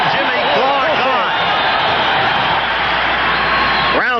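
A loud arena crowd roars and bellows continuously during a 1980 US-Cuba amateur heavyweight boxing bout, with individual yells and whoops rising out of the din.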